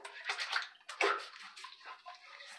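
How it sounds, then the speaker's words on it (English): Water splashing as hands wet the face at a bathroom sink before a shave, a few quick close splashes and drips in short bursts, with no talking. "Just going to wet my face a little bit."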